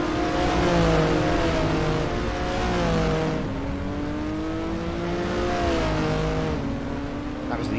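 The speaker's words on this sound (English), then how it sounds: "The V6s rumbling their way round this Hednesford Hills Raceway." V6 Eurocars race round Hednesford Hills Raceway in the rFactor game, a continuous engine drone rising and falling in pitch as several cars rumble by, with a commentator talking over it.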